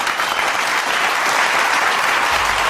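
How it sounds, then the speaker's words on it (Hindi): Loud, sustained applause filling an auditorium, a thick unbroken roar of many hands clapping at once, close and even throughout with no voices on top. "पूरा सभागार तालियों से गूंज उठा"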